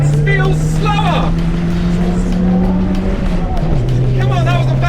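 A Renault Twingo engine drones steadily as it accelerates hard in a drag race. The pitch climbs, then dips at a gear change, while excited voices talk over it.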